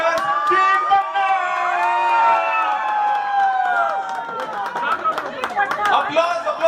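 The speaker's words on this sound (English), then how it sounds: "Applause guys, come on" Clapping and cheering from an audience at a New Year award celebration as the winning team is welcomed. Voices call out over the crowd at first, then scattered, irregular claps grow denser toward the end.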